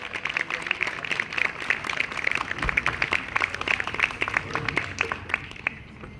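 Audience applause at an award ceremony honouring a sanitation worker: dense, steady clapping from many hands fills the whole stretch, crisp individual claps popping above the wash, tapering slightly near the end.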